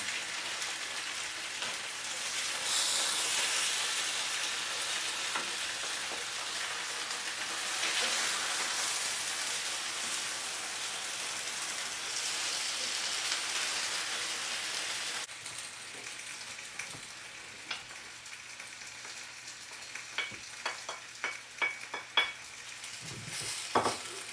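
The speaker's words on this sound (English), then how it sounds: "Now while this pan is still hot, I'm going to add my onions." Onions dropped into a hot pan with pan-fried potatoes hiss in a loud, dense, rain-like sizzle that stays steady, then eases midway as occasional utensil clinks and taps come through near the end.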